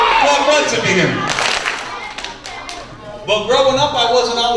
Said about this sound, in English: Clap once if you're here.